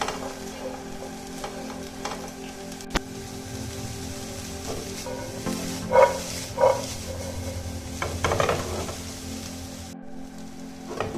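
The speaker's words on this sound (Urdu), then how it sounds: "اس کو تقریباً 2 سے 3 منٹ لگیں گے فرائی ہونے میں." Red chili sizzles steadily in a hot pan, a soft continuous crackle broken by a few louder stirring scrapes and clinks, with no one speaking.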